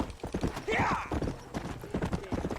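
Horse hooves clip-clopping in Red Dead Redemption, a close, steady rhythmic gait with a whinny partway through, while someone talks over it.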